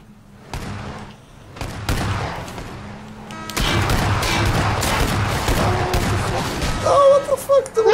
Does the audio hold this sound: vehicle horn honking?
no